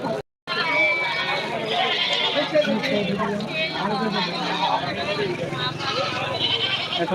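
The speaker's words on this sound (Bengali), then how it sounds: "মানে ছাগল দেখতে পাচ্ছি এখনো" Goats bleat repeatedly and loudly at a busy livestock market at Amtali Bazar in Daulatpur, Manikganj, their calls overlapping amid a constant crowd babble and nearby talking.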